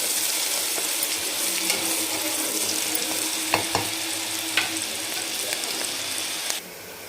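Chopped onion fries in hot oil until golden for a masala brinjal dish, a steady close sizzle with a few sharp clicks of a spoon against the pan, then the hiss drops away abruptly at the end.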